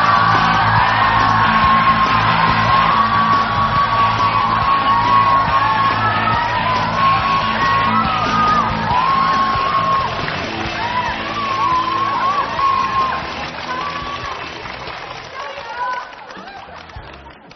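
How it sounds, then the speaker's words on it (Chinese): A studio audience at a Chinese TV culture programme welcomes actor Wu Xiubo. Loud yelling, whooping and cheering rise together, then gradually fade out. "让我们掌声欢迎吴秀波"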